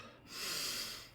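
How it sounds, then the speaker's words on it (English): One deep breath, a single breathy rush that swells and fades over about a second, heard close and alone. "Deep breaths."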